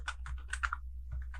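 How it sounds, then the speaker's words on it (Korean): Keys tapped on a computer keyboard while entering data into an Excel spreadsheet for an ITQ exam exercise, a quick run of clicky strokes, a pause, then a few more, close and clear. "타이핑 해볼게요."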